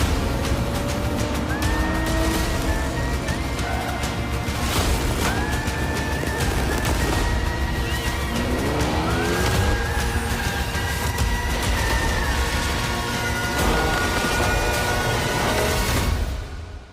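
In an arcade open-world racing game trailer, race car engines roar loudly and continuously, with rising whines as the cars accelerate and shift, layered over dense mechanical noise and music-like backing.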